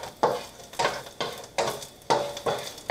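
Dried chili peppers sizzle in hot oil for salsa macha while a utensil stirs the pot in steady repeated strokes, each scrape close and fairly loud over a constant frying hiss, with no talking.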